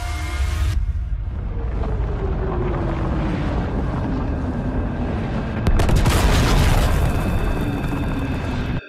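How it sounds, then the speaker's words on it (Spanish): A loud, roaring blast sound effect with a sustained rumbling wash and a sharp surge partway through, dense and booming. "había causado una gran explosión"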